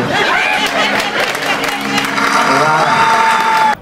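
Audience applause and cheering at a live comedy show, loud and dense throughout with crowd voices mixed in, continuing steadily and then cutting off at the end.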